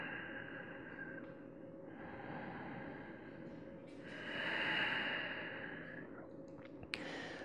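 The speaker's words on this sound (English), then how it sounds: "listening to the sound of it coming in through your nose and out through your nose" Slow, quiet breathing in and out through the nose during a yoga class, soft airy inhales and exhales close to the microphone, with one fuller breath swelling midway.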